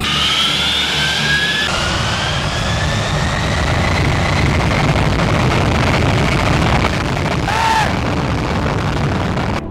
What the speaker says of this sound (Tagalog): Para may perspective ka gaano kalakas ang tambucho ng eroplano